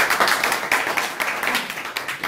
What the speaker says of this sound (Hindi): इनके लिए तालियां बजा दो यार